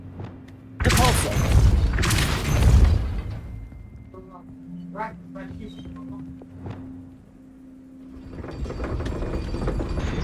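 Depulso, a force-pushing spell, is cast in the Hogwarts Legacy video game on PS5, giving loud bursts of magical impact and thumps. They come in two heavy clusters early on, followed by softer effects and ambient game sound.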